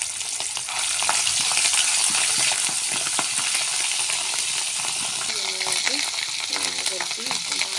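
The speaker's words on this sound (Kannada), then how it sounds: "ಸ್ವಲ್ಪ ಶುಂಠಿ ಬೆಳ್ಳುಳ್ಳಿ ಪೇಸ್ಟ್ ಹಾಕ್ತೀನಿ ಇದಕ್ಕೆ" Ginger garlic paste sizzles loudly and steadily in a hot pan for chicken sukka, a continuous close frying hiss with occasional scraping stirs and small clinks.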